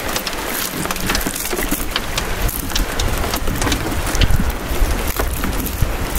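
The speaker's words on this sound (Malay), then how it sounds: "Ui lebat lah Hujan dah turun" Heavy rain pours down beside the Perak River in a dense, loud, close hiss, with scattered sharper drop impacts and low rumbling swells.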